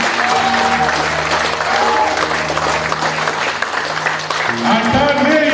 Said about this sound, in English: Let's give a clap for the worship team.